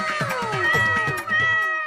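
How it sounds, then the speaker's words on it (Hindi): A cat trapped in a net meows repeatedly, with several drawn-out, wavering cries close by and no talk over them. "भैया वहाँ देखो, प्यारी सी बिल्ली जाल में।"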